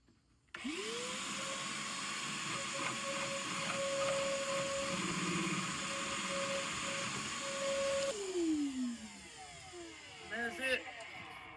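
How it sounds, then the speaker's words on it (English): A vacuum cleaner drones steadily close by while a core is cut through a boat deck for a Rupp rod holder, with a rising whine at the start and winding down near the end. "we got a vacuum so it doesn't make a huge mess on the deck"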